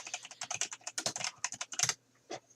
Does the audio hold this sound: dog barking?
no